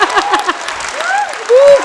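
An audience at a Hindi poetry gathering breaks into applause that rises toward the end, mixed with the performer's voice and rising cheers over the clapping.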